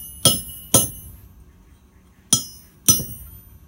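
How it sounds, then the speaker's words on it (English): A hammer drives a punch through hot metal on an anvil while a coat hook is being forged: four loud, close, ringing metallic blows in two pairs with quiet gaps between, and no voices. "lay it over the smaller hole of the anvil and put the punch right on the center of it"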